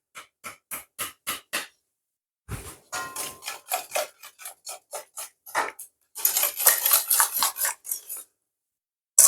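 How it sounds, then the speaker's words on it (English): Orange zest is rasped off on a grater for a Jamaican sorrel cake, a run of quick rhythmic scraping strokes, close and crisp, pausing briefly before a faster, louder burst of grating. "Just gonna put a couple bit of orange zest in this."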